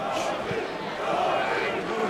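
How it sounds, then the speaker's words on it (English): Arena crowd roaring and shouting steadily at an MMA fight between Jorge Rivera and Dennis Hallman, a dense continuous wash of voices with a few louder bursts, no clear single speaker. "you can hear the crowd shouting"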